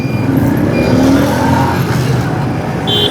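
Dense road traffic rumbles in a jam on the way toward Munawar Chowrangi, a loud continuous engine drone with a passing vehicle hum, heard up close from a motorbike.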